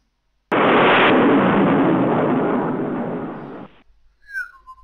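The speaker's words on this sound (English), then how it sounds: "Colorado is being hit by a torpedo, but it's a light torpedo" A light torpedo strikes the battleship Colorado in the naval game Rule the Waves, giving a loud sudden blast that roars steadily for about three seconds, fades, and is followed by a few faint whistling tones.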